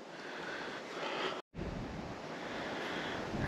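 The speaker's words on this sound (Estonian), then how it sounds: "Tuul on kuidagi tekkinud kuskilt" Steady wind blowing at a lookout tower amid tall trees in the upper Lake Peipus area, a continuous broadband rush with a brief dropout midway, no voices.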